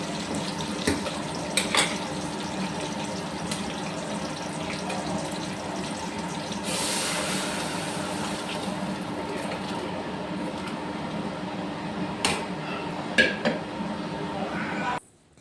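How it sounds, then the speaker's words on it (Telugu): Dishes are washed at a home kitchen sink, with tap water running steadily throughout, pots and utensils clinking and clattering now and then, and a voice talking over it before the water stops. "మగ్గేలోపు కొన్ని అయితే గిన్నెలు ఉన్నాయి, వాటిని కూడా తోమేసుకున్నాను."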